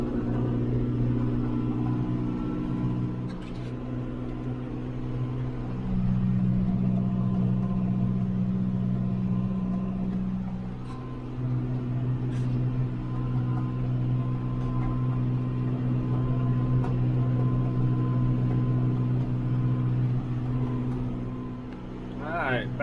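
A tractor engine chugs steadily while driving along a gravel road, a continuous low rumble with shifting drone throughout, with someone talking occasionally over it.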